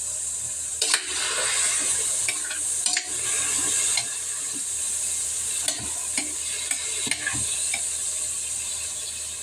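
Pakbet vegetables are stirred in a hot pan, a continuous close sizzle punctuated by repeated scraping and clacking strokes of a spatula at irregular intervals, with no voices.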